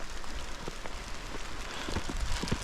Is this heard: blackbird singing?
no